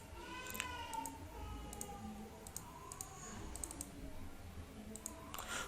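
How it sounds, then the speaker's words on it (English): Calculator buttons are pressed during a bearings math problem, making a scattered series of small, light clicks and taps close by, quiet against a faint background hum. "let me pull out my calculator and type the square root of that"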